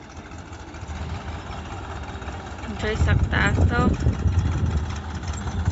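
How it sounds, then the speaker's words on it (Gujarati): A farm tractor's engine idles and runs with a steady low rumble that grows louder toward the middle as it draws nearer, while a person talks over it. "તો ટ્રેક્ટર ચાલુ થઈ ગયું છે આપનું"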